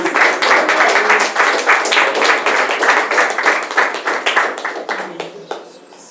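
A church congregation claps steadily in dense rapid applause, loud at first, then thinning and fading near the end.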